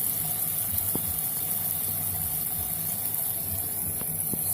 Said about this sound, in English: Toilet's filling up nice.